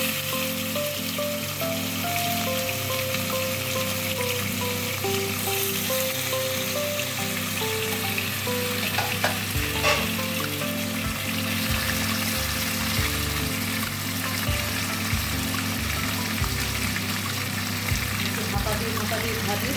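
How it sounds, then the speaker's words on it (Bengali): Pieces of rohu fish fry in hot oil with a steady, close sizzle that runs through the whole stretch, partly under background music. "হালকা করে মাছগুলো ভেজে নিয়ে তুলে নিচ্ছি।"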